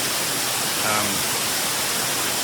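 Water from a natural spring in Zion's Narrows rushes steadily in a slot canyon, a constant broadband hiss with a person speaking briefly over it.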